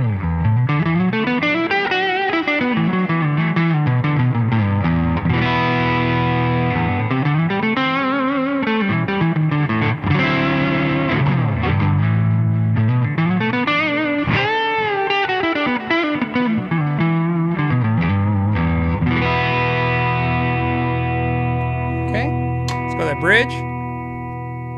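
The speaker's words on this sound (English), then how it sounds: "I'm going to start with a neck pickup and give you some neck distortion sounds." A D'Angelico Premier Mini DC electric guitar on its neck pickup, driven through an OD-11 overdrive, plays sustained distorted chords and bends that rise and fall in waves with a steady gritty tone, ending in a short high squeal.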